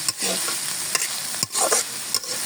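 Spiny gourd and shrimp stir-frying in a pan, a steady sizzle with a few sharp scrapes of a spatula against the metal, close and alone with no voices.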